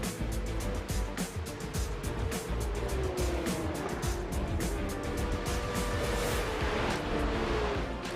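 Race cars in a Porsche Esports Carrera Cup racing game at Brands Hatch Indy crossing the finish line: a dense, continuous engine roar with several cars passing in close succession.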